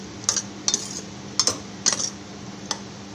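Cooked banana stem being mashed with a metal utensil in a pot, a series of sharp, close clinks and scrapes spaced irregularly over a quiet background with no talking.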